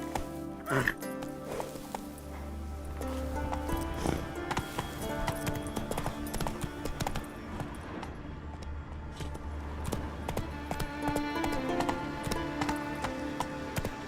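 A horse gallops in The Witcher III: Wild Hunt, steady rhythmic hoofbeats carrying on throughout, mixed with in-game ambience and brief voices.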